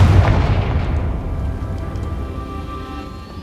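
The Confringo fire-blast spell in the Hogwarts Legacy video game: a single loud, close explosive boom that hits at once and then rumbles and fades slowly over a few seconds.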